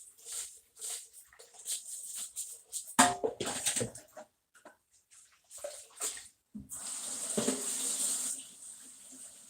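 A cup is rinsed under a running kitchen tap while washing dishes; irregular splashing and gushing bursts come and go close by, fairly quiet, with short pauses between pours.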